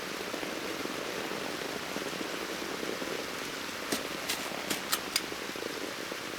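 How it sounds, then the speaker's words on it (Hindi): Steady rain hisses across a surface, with a few sharper drop taps standing out near the end. "बारिश होने लगी।"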